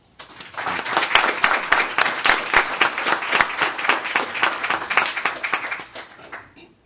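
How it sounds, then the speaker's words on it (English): A room at a city meeting breaks into a round of applause, many hands clapping densely and steadily for several seconds before it tapers off, with no talk over it. "Another round of applause."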